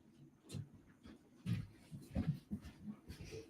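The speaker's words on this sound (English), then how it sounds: "The dogs always bark at him like they don't even know who he is." Several household dogs bark in scattered, muffled bursts, faint and somewhat distant, across a few seconds of quiet room sound.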